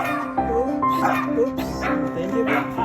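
A dog barks and yips repeatedly in short bursts close by, with whining tones between barks.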